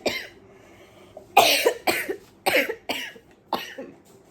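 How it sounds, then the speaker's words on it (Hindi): A woman coughs in a series of harsh, close bursts, one faint cough followed by a rapid run of five or six louder ones with brief gaps, alone without speech. "खांसी बहुत तेज बढ़ गई है"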